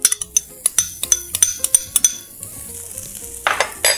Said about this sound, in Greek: Ρίχνουμε το γκουανσιάλε στο ζεστό τηγάνι.